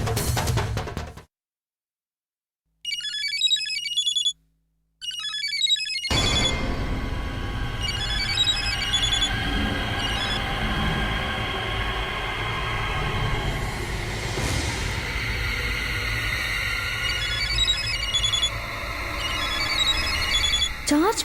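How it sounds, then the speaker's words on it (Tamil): A mobile phone left on charge rings with repeated bursts of electronic chiming tones separated by silent gaps, then the ringtone keeps playing under a dense, noisy background through the rest of the stretch. "ஃபோன் அடிக்குது, எடுத்து பேசலாமா?"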